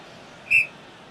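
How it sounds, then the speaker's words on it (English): A referee blows one short, sharp whistle for a foul during a Norway versus Italy football match. It sounds at a moderate distance over low stadium ambience. "Foul whistled."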